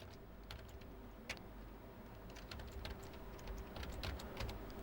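Quiet, irregular clicking of keys being typed on a Lenovo IdeaPad Slim 3 Chromebook laptop keyboard, soft taps scattered over a low background hiss.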